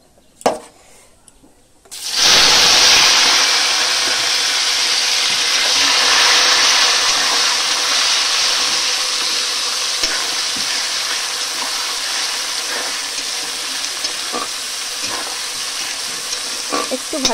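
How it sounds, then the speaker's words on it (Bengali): A whole garlic bulb and ground onion paste drop into hot oil with a sudden loud burst of sizzling that stays strong and steady, with occasional stirring clicks, close up. "এটা আমি ভালো করে তেলে ভেজে নেব"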